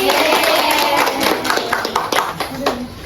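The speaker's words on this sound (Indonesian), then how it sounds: "Kita beri tepuk tangan buat Iin" Schoolchildren in a classroom clap for a classmate, a loud cluster of quick hand claps close by, mixed with children's voices and chatter.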